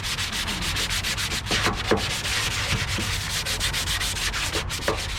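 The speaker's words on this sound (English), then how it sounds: "I'm gonna keep sanding on this" Hand sanding over a rust repair on the body of a 1968 Ford F100 pickup produces quick rhythmic scraping strokes. The rubbing is close and continuous, with slight variations in pace and no voices.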